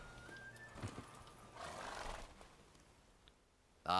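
A horse in The Witcher 3 video game lets out a faint whinny along with soft hoof clip-clops, followed by a brief louder burst at the end.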